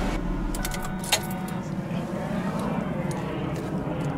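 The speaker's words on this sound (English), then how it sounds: "So now it's time to shut the car off." Keys jangle in bright metallic bursts as a Lincoln car engine is shut off during an oil change, with a low idle rumble underneath that settles into quiet.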